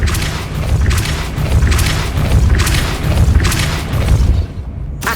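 Depulso force-push spells fire in Hogwarts Legacy, a string of loud, punchy booms and thuds several times in a row with crashing impacts between them and no speech.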